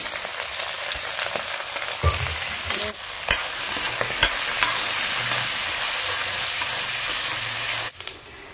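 Green chillies and curry leaves sizzle steadily in hot oil for a Kerala chicken curry, with a few sharp spatula scrapes and stirring knocks against the pan over a constant frying hiss.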